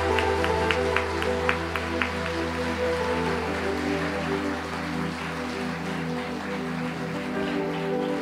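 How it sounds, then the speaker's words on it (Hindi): A worship congregation claps in a church service, a dense rustling patter of many hands with a few sharper claps at the start, steady under sustained music tones throughout. "जोरदार तालियां बजाइए, प्रभु को धन्यवाद दीजिए।"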